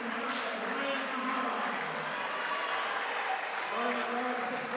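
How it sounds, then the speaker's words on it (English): A crowd in an ice hockey arena cheers and claps during a high school crosstown rivalry game, a steady wash of noise heard from the stands, with a commentator talking over it. "As the crowd's getting a little bit wild here"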